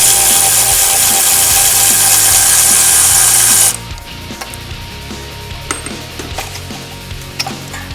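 A ratchet loosening a 17 mm bolt on a Honda Integra VTEC engine during head removal, a few seconds of steady loud whirring, then a run of clicking pawl strokes, close and alone.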